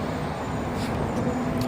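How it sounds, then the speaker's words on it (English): A large truck drives past, giving a steady, close, broadband engine and road roar that holds at an even loudness throughout, with no voices. "So many of these large trucks drive through here."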